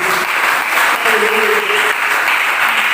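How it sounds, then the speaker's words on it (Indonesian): Church congregation clapping during a worship service, a dense burst of applause from a gathered crowd with faint voices mixed in, steady for a few seconds. "Puji Tuhan, berikan tepuk tangan."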